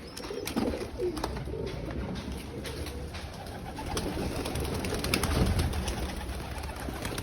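Pet pigeons, a male and a female at home near feeding time, coo in low repeated throaty calls close by, steady over faint background hiss, with no talk.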